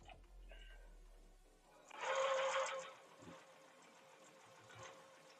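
A sewing machine stitches through bulky patchwork fabric in a short, loud burst of rapid whirring. Quieter handling noises come before and after it.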